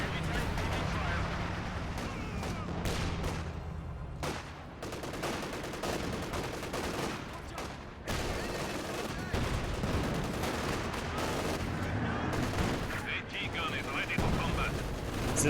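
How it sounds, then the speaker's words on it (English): Machine-gun bursts and a heavy artillery barrage from a Company of Heroes 2 match between OKW and Soviet forces, with dense, continuous gunfire and explosions throughout, while a commentator talks over it. "This gun barrage in the Vikenworth forces him back."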